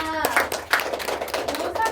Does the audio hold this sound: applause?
yes